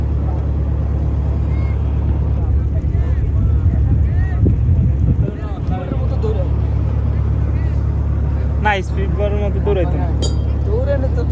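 Village boat with a large engine running on water near Hatiya, a steady low engine drone with wind buffeting, a few clinks, and people talking over it.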